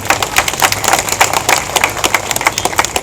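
Applause from the audience at a public meeting, many hands clapping together in a dense, steady roar that fills the hall.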